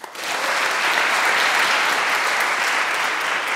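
An audience at a Korean traditional music solo recital applauds, dense and loud, rising quickly and holding steady to the end.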